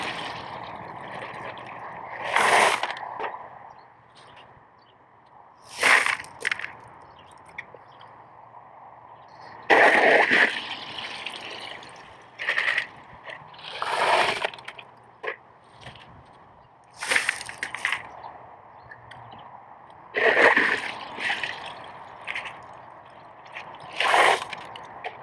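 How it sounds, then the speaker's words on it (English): Aquaponics grow media and water being scooped and poured through a mesh screen, giving repeated wet sloshing, squishing and gurgling bursts a few seconds apart, close by, with quieter pauses between. "I'm going to scoop the hydrogen out of there, pour it through this mesh, and then pick up this mesh and dump it into that bucket"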